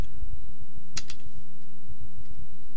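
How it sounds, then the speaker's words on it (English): Keys clack on a computer keyboard as an IP address is typed, a quick run of close, light taps with one louder cluster early on, over a faint steady hum. "You're just going to type in the IP address"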